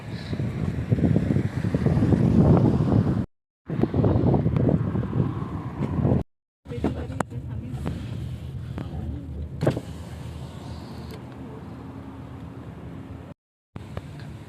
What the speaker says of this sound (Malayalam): നല്ല കാറ്റ് വീശുന്നുണ്ട്